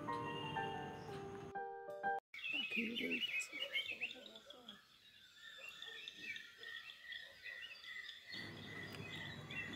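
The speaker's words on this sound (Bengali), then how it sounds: "পাখিদের কিচিরমিচির" Dawn birdsong in the Darjeeling hills, with dense overlapping chirps and tweets from many birds near and far, broken by a brief silent gap early on.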